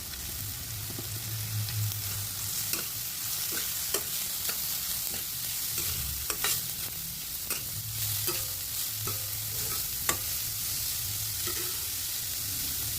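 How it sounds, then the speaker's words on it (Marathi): Sliced radish stir-fried with onions in a pan for radish bhaji: continuous sizzling with repeated clattering stirs and scrapes of a spatula, close and moderately loud, no talking. "आता आपण कांद्यामध्ये कापलेला मुळा घालून घेऊया।"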